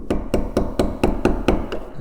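A mallet taps a chisel into wood while cutting back to a line on an end table part, eight even, moderately loud knocks in a steady rhythm at close range.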